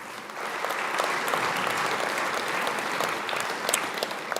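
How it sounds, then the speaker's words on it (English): A graduation ceremony audience in a hall gives a round of applause, a steady dense clapping that rises quickly and holds at even strength, with a few sharper individual claps near the end. "Please give him a round of applause."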